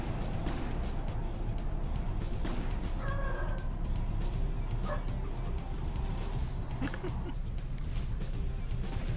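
A dog barks and yips a few times in short bursts, fairly faint and a little distant, over a constant low background hum with no clear talk.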